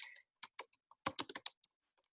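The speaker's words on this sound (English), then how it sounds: "You're going to hear typing hard." Hard, emphatic typing on a computer keyboard, with short bursts of clustered keystrokes separated by brief pauses, heard close and alone with no talking.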